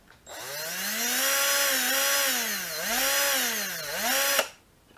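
An Erbauer impact driver's electric motor runs steadily after a rebuild, a loud continuous whine that dips and rises in pitch a few times as it slows and speeds up, then cuts off abruptly near the end.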